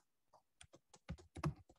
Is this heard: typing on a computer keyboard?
yes